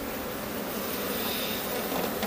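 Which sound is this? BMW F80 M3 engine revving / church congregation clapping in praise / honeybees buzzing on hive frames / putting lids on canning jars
honeybees buzzing on hive frames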